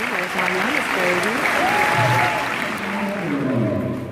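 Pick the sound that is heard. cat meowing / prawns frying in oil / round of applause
round of applause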